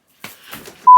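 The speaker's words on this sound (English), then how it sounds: "What the hell is still beeping?" A single electronic beep, a sharp steady tone that starts abruptly near the end and holds loudly, after a few faint rustling or clicking sounds.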